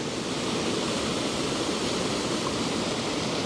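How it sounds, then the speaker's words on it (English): Rushing water in a mountain valley during torrential rain, a loud, dense and continuous roar like a swollen stream or waterfall, with no voices. "you might have to forgive the sound of this water"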